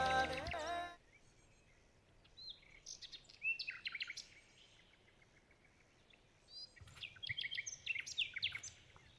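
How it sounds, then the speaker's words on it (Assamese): Scattered chirps and calls from several tukura birds, coming in short bursts separated by quiet stretches, fairly distant, at Dheer Beel. "সৌ কেইটা হৈছে টুকুৰা চৰাইৰ বা"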